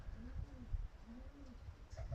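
Pigeons cooing close by in a loft, several soft low rolling coos in a repeating rhythm over faint background noise.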